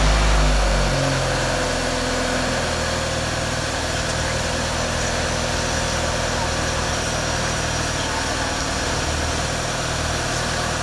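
A 2020 BMW 320i 2.0 petrol engine idles steadily just after an oil and filter change, a close, even hum with a brief louder start at the beginning.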